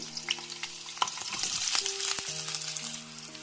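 Green chillies and onion frying in about a tablespoon of hot oil, a bright continuous sizzle with scattered crackles and spoon clicks, close up and without speech.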